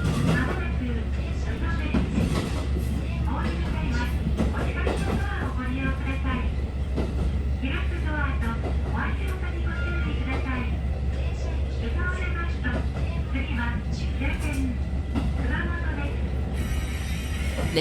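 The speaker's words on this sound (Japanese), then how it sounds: "列車は鹿児島本線の線路に合流して宇土駅のホームに滑り込みます" A JR Kyushu train merging onto the Kagoshima Main Line and gliding into the platform at Uto station, a continuous close rumble with rhythmic clatter and squeals throughout, while a voice talks over it.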